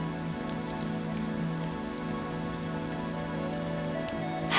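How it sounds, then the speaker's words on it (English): Rain falls steadily, raindrops pattering and collecting into puddles in an unbroken close wash of sound, with no voices and a slight swell at the very end. "As you listen to the rain, know you're safe and sound"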